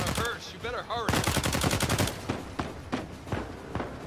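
Gunfire in the video game Uncharted 4: a dense burst of rapid automatic shots followed by scattered single shots, loud and close, mixed with game sounds.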